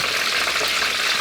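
Prawn toast fries in a pan of oil, a loud, bright, crackling sizzle that holds steady and close for a short moment with no voices.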